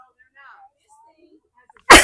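A single sharp, loud sneeze bursts out at the very end after near silence with faint scattered background noises.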